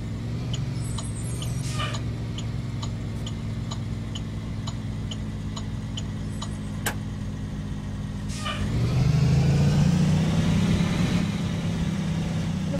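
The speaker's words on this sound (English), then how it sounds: "parking brake, like a brake sound like that" A 2016 Blue Bird Vision school bus idles with a steady low drone and ticking clicks, then the parking brake releases with a sharp hiss followed by a louder, rougher engine note.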